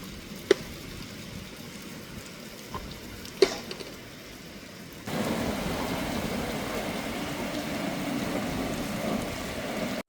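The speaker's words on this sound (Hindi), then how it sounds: "यूके में तो ये बारिश आम है।" Rain falls outside an open window in London: a steady, even hiss of rainfall grows noticeably louder partway through, with a few faint clicks and knocks in the quieter stretch before.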